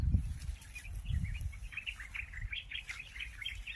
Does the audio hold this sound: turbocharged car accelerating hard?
no